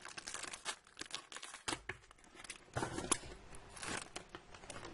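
Plastic blister pack of football stickers being torn and crinkled open by hand, with irregular crackling rips and rustles close up, no voices.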